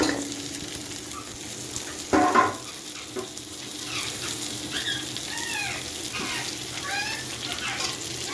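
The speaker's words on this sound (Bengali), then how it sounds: "ওই তেলটার মধ্যেই কিন্তু আমি সমস্ত সবজি দিয়ে দিচ্ছি" Vegetables are dropped into hot oil and fry with a steady hiss and crackle. Occasional stirring clinks and faint high squeaks come through, and a brief voice is heard partway through.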